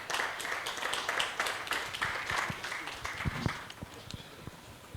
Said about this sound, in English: Please, let's meet him with a round of applause.